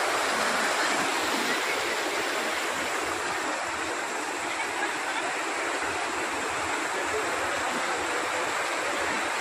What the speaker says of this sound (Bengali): এই যে গেটের মাধ্যমে জলটা ক্রস করছে।